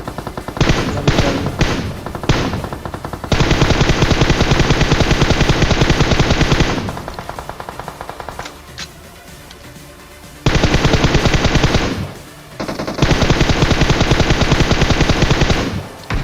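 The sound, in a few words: gunfire in a mobile shooter video game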